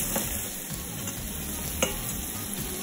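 Red prawns browning in a pan, a steady moderate sizzle with a few faint knocks of a utensil, no voices.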